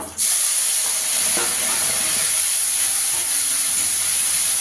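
Grated tomatoes hitting hot oil with frying spices in a pan for kanchkolar kofta curry: a sudden loud hiss that settles into a steady close sizzle, with no speech.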